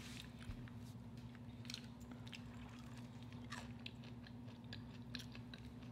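Fried shrimp is chewed and bitten close to the mic during a seafood meal, soft squishy mastication with scattered faint crunches spread across the whole stretch, no talking.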